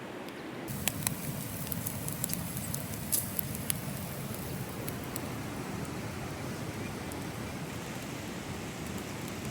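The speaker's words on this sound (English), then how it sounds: "now we're getting all of the sounds of the bacon" Bacon sizzles over campfire coals at a rainy tent campsite, a steady close crackling hiss with scattered sharp pops, rain pattering underneath.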